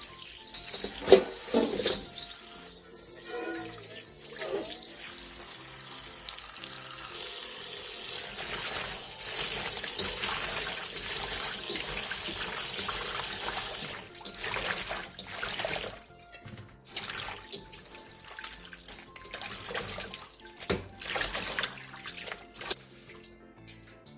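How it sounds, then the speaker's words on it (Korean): Salted cabbage gets rinsed under a running kitchen tap, water splashing and gurgling into a sink with shifting intensity, bursts of handling and drips close by, no talking. "다 절여진 양배추는 물에 한 번만 헹궈낸 뒤 물기를 충분히 빼놔주세요."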